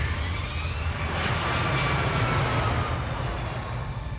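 An airliner, flight Cactus 1549, roars down the runway on takeoff, a loud, steady jet engine rumble with a rising whine, heard continuously throughout without voices.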